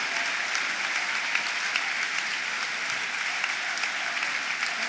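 Blackburn Rovers supporters at a match against Leeds United give warm applause to goal scorer Cantwell as he leaves the pitch, a sustained, even roar of stadium-wide clapping heard from a distance, steady for about five seconds with faint crowd murmur.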